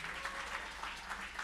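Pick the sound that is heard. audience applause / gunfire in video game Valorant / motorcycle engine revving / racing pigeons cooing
audience applause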